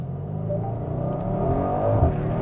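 A Mercedes-AMG GLC Coupé 63 S, which has a fault, revs hard from a standing start, its engine note close and steady and rising slightly in pitch, with no one talking.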